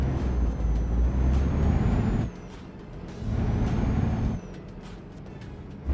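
A heavy truck engine accelerates in Euro Truck Simulator 2, with a loud low drone that rises in two sustained surges separated by a quieter lull, and no talk.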